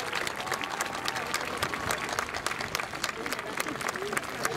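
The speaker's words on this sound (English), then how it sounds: "One more round of applause for the" A crowd at a high school graduation applauds warmly, steady dense clapping with scattered cheers, filling the whole moment without pause.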